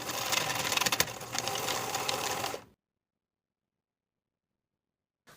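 Sewing machine tacking fabric cording diagonally at the seam allowance, a steady rapid stitching run for about two and a half seconds that stops abruptly, then silence.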